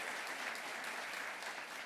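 Applause from an audience at the Australian Museum Eureka Prizes award ceremony, dense and sustained, a soft even wash of many hands clapping at a distance.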